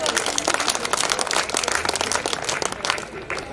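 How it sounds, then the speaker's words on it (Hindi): Loud, dense applause from the audience at a Hindi kavi sammelan poetry gathering, a steady wash of many hands clapping that carries on for several seconds with scattered voices underneath. "एक बार जोरदार तालियां आदरणीय पवार"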